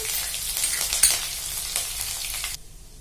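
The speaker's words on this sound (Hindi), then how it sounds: "ये हरी मिर्च और अदरक भून गया है" Cumin seeds, grated ginger and chopped green chillies frying in hot oil with asafoetida, a steady close sizzle with faint stirring clicks that cuts off sharply near the end.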